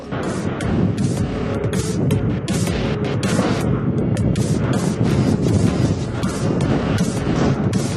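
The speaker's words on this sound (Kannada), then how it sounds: "ಬಲವಾದ ಗಾಳಿ ಮತ್ತು ಮರಳು ಬಿರುಗಾಳಿಯು ಪ್ರದೇಶದಾದ್ಯಂತ ಬೀಸಿತು." Strong sandstorm wind in Churu district, Rajasthan, roaring continuously and loudly into the microphone with heavy buffeting gusts throughout.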